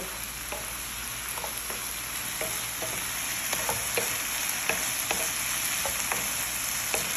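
Olives and a satet mixture sizzle in a frying pan while a utensil stirs them. The frying hiss is steady and close, and soft scraping taps against the pan repeat every half second or so.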